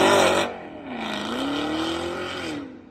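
The 668-horsepower 6.2-liter supercharged V8 of a Cadillac CT5-V Blackwing roars hard, briefly easing off before surging again in a rising, sustained rev that then fades, loud and close with no voices.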